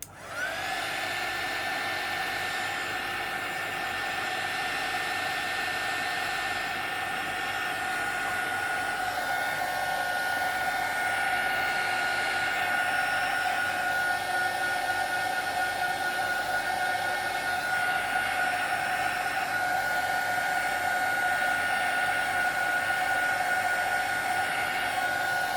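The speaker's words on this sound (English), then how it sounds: "Let's see if I can do it with my heat tool, so to save time." A craft heat tool blows a continuous, even, whining hiss for the whole stretch as it dries paint on an altered craft box, close and unbroken with no talking.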